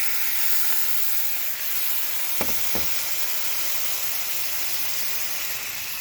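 Beef drippings sizzling and steaming in a pan, a steady bright hiss throughout with a couple of soft taps partway, close and even, with no talking.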